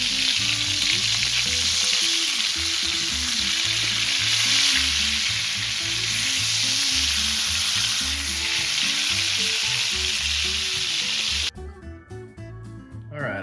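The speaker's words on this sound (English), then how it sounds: "Gonna get the skillet good and hot, and then we're gonna sear these things." Deer backstrap sears in bacon grease in a hot skillet, giving a loud, continuous close sizzle with crackling pops throughout, then a brief quieter tail.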